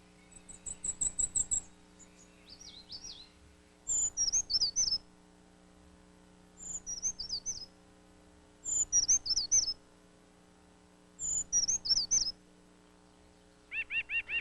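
Backyard birds singing as winter turns to spring: clear, high chirping phrases repeat in short bursts roughly every two to three seconds, bright and close against a quiet background with a faint steady hum.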